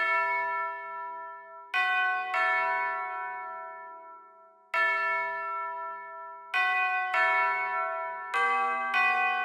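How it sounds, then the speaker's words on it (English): Ringing tubular bells play a slow melody in a Detroit-style beat, each struck note sustaining and decaying before the next strikes, clear and resonant with no voices. "tubular bells are very essential to Detroit beats, so I ended up putting in this melody right here"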